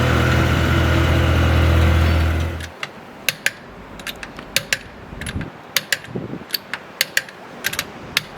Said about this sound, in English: One of the biggest problems with the Spiders is to get the roof down, the seats have to go forwards electronically